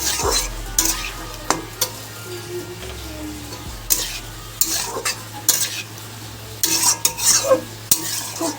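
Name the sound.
cumin and coriander being fried and stirred in a pan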